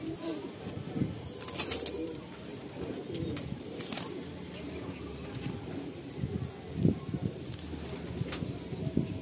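Soft pigeon coos come and go over a quiet outdoor background at a pigeon loft in Andul, Howrah, with a few brief wing flaps and occasional faint voices.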